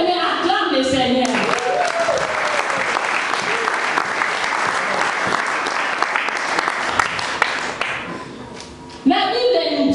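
A church congregation bursts into loud, dense applause that runs for about eight seconds before tapering off. A voice speaks briefly at the start and again at the end.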